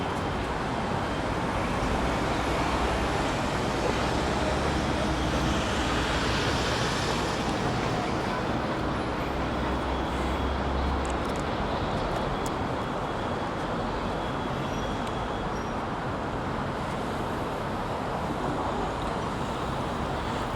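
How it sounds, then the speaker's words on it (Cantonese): Cars whoosh along the Donghaochong elevated road in Guangzhou, heard as a steady, continuous roar of traffic with no breaks or talking. "啲車噓聲過呢條咧係東濠涌高架"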